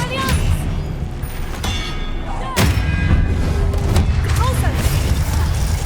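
A spell cast in Hogwarts Legacy lands as a sharp, loud magical burst. Busy game sound surrounds it, with low rumbling booms and thuds, brief chime-like tones and a steady bed of combat noise.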